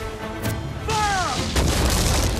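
Cannon fire from a pirate ship in Assassin's Creed IV: Black Flag, a loud booming blast with a rumbling tail, followed by a second heavy thump amid battle noise.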